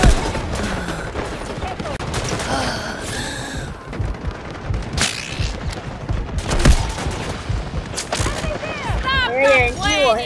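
Machine gun fire in the video game Delta Force during a heated attack-and-defend battle, with dense overlapping automatic bursts, booms and thuds, loud and chaotic throughout, while a person talks over the gunfire.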